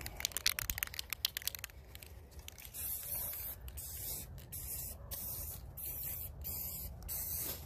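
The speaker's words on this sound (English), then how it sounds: "the next process is I'm going to clear coat it" A light clear coat is sprayed onto a rail spike mug holder, a steady close hiss of aerosol spray in several short bursts following a few clicks and rattles.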